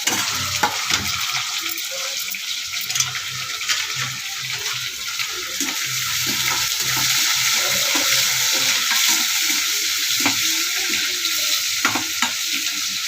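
Onions added to a hot tempering of golden chana dal and urad dal for cabbage poriyal, frying in oil: a broad, steady, close sizzle with a hiss like running water and occasional spoon clicks and stirring scrapes.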